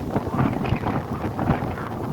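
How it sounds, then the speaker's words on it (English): Wind gusts rumble low against the microphone in uneven, moderate bursts at an outdoor mini pole barn build ahead of a storm, with no voices present. "it's already windy, and the storm's not even here yet"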